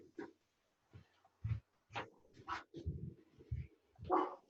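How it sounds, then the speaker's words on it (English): A dog wakes up during a home exercise session, giving a series of short whimpers and yelps in uneven bursts, fairly close and moderately loud, with no talk over it. "The dog's waking up."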